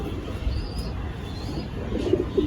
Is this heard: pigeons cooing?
yes